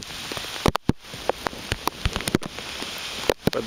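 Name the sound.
heavy rain during Hurricane Isaac, Alabama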